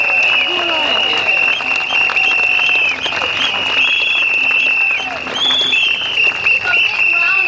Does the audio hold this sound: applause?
yes